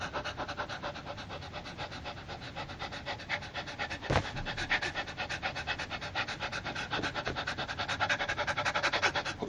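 During a singing lesson, a person imitates a panting dog with rapid, steady, rhythmic breaths pushed in and out close to the microphone, continuing without pause and without words.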